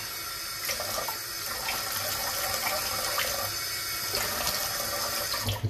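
Tap water running steadily into a sink while a face is rinsed after shaving, a close continuous splashing rush with small shifts as hands move through the stream.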